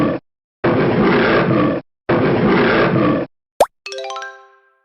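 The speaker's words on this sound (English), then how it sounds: "lion," A cartoon lion roar in a children's animal-sounds lesson: two long, loud, broad roaring bursts separated by a short gap, followed by a sharp plop and a springy, boing-like cartoon effect, with no talk.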